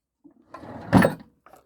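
A drawer slides open or shut once at close range, a single soft rumbling thud in a jewellery-making workspace where handmade cross pendants are being finished.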